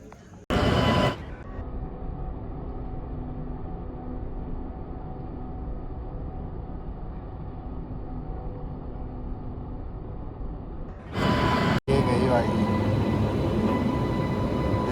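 Steady rumble of a train carriage interior with a sharp clank at the start and another near the end as carriages are coupled, on a rail journey home from Haridwar.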